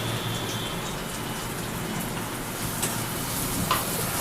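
Onion frying in a hot pan for a kids' breakfast with potato, giving a steady, close sizzle throughout with faint clicks near the end and no talking.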